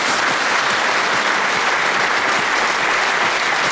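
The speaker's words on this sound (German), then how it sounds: "Einen herzlichen Applaus" A studio talk show audience applauds loudly and continuously, a dense wash of clapping with no speech over it.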